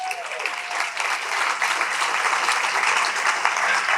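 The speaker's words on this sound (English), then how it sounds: "Let's have a round of applause for all of those folks." A festival audience gives a sustained round of applause for the organisers, thick continuous clapping filling the room from start to finish.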